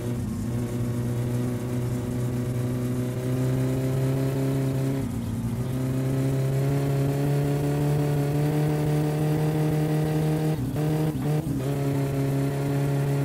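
A turbo Chevette engine in the game My Summer Car, holding a steady high buzzing rev with a slipping clutch, dipping briefly a few times near the end.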